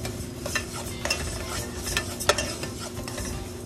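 Moong dal lentils fry in a pan while a spoon stirs them continuously, giving a steady sizzle broken by repeated scraping and clinking strokes, close and moderately loud, with no talking.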